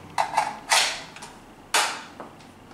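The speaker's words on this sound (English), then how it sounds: "So let's put the mag in. Let's see how well the mag fits in there." Magazine seated into a Norinco Type 97 Gen 3 rifle: a close sequence of light metallic clicks followed by a firmer clack, then a final sharp snap, with no talking.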